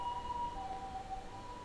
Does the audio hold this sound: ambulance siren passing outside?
yes